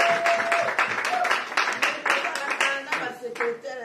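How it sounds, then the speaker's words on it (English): An audience claps and applauds at a Mother's Day celebration held by a Congo support group, the sharp, dense hand claps running steadily throughout and easing toward the end. "Let's applaud for her."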